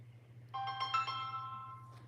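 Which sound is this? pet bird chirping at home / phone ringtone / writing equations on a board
phone ringtone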